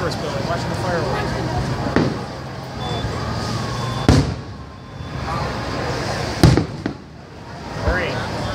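Fireworks pop and bang in sharp bursts every couple of seconds, some distant, amid crowd chatter and voices nearby.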